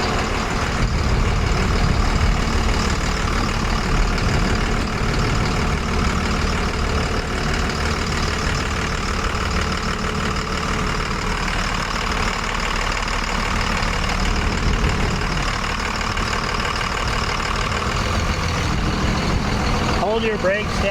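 An off-road wrecker truck engine idles with a loud, steady diesel rumble throughout, a voice talking over it at times.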